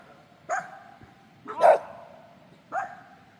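Three sharp dog barks ring out at a moderate distance, spaced about a second apart, against a quiet background.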